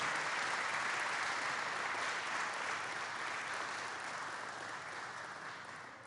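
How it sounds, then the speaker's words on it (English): An audience at a presidential event in New Jersey applauds the governor with dense, even clapping that holds steady and then slowly fades, heard from some distance. "Let's give the governor another great round of applause."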